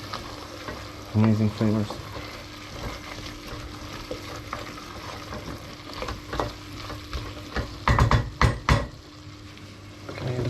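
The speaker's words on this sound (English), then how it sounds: "It's all gonna be flavor deglazing the pan." Pan deglazing while Hungarian pasta dishes cook, with steady frying sizzle and stirring scrapes throughout, a few louder clattering bursts of utensil and pan contact near the middle and end, and a brief spoken remark.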